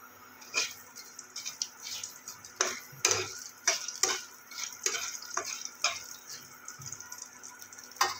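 Bay leaf and cinnamon fry in oil at the start of a Bengali rui fish curry: a quiet, thin sizzle under repeated sharp taps and clicks of a spoon stirring the pan, with no voices.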